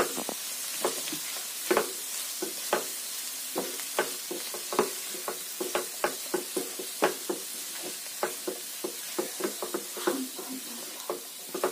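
Masala with crushed chickpeas sizzling in a pan while being stirred, a constant frying hiss broken by frequent sharp spoon knocks and scrapes against the pan in an irregular rhythm.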